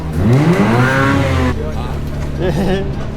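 A race car engine revs up and down loudly and close by, rising and falling in pitch, then pauses briefly before revving again, with no voices over it.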